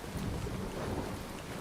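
Heavy rain pours with a deep rumble of thunder in the Fallout 4 video game, a dense, loud, unbroken wash of noise with no talk.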